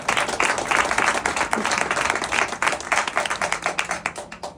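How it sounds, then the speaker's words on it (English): Lively applause from a conference panel audience, a burst of quick clapping that stays strong and then begins to thin out, heard close up. "Zach, give Zach a round of applause."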